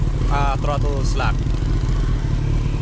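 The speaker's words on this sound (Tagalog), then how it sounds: "Konting piga ko lang, mag-rev na yung engine." Kawasaki ZX14R big bike engine idling with a brief throttle blip, a steady close low rumble running throughout while someone talks briefly over it early on.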